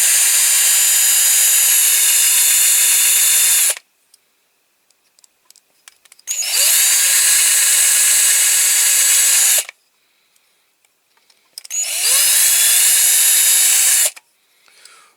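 A power drill bores into a die-cast Matchbox Foden cement mixer toy in three loud, close bursts of whining, each lasting several seconds and separated by brief quiet pauses.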